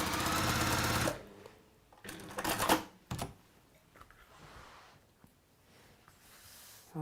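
A sewing machine stitches the front piece of a fabric bag in a loud, steady whirring run close up, then stops, followed by quieter handling noises.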